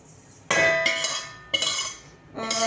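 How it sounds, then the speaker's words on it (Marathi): A metal kadhai being set back down on a stove, several bright clanking and scraping metal contacts in quick succession, close and fairly loud, with no voices. "कढई परत ठेवलेली आहे मी"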